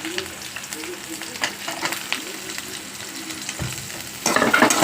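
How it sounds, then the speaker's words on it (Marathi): Onions and chillies fry in a pan for a drumstick-leaf curry with mung dal, a steady sizzle broken by occasional stirring scrapes that grows louder near the end when the onions hit the hot oil. "आता आपण यामध्ये कांदे सोडू."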